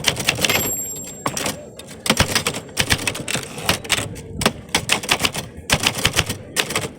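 Typewriter keys struck in steady bursts, each clack sharp and close with occasional heavier carriage or bell-like hits, continuing alone without speech.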